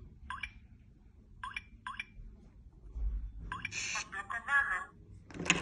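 Electronic keypad on an apartment door in Kołobrzeg gives several short beeps as a code is entered, in separate bursts followed by a longer run of tones, fairly close and clear with no talking.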